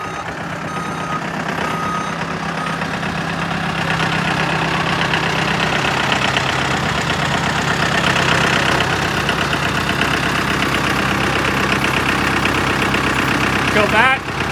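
A forklift engine runs steadily while the forks are driven into a trailer to stab into stacked tires, with repeated reversing beeps and a mid-pitched idling drone throughout, and voices talking over it.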